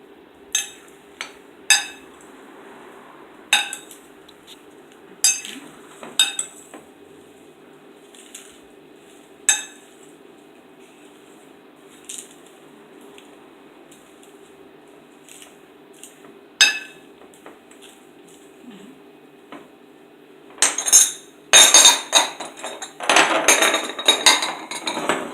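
A cucumber and avocado salad is mixed gently in a bowl. Sparse, soft clinks and taps of utensils come at irregular intervals, then a louder, busier cluster of scraping and clattering near the end.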